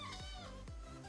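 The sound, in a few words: cat meowing in background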